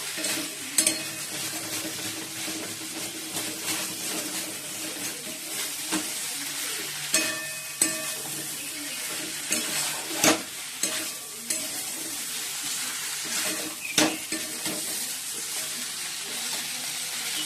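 Okra and potato fry in oil in a pan with a continuous crackling sizzle. A spatula stirs and scrapes through it with irregular knocks and scuffs, close and steady throughout.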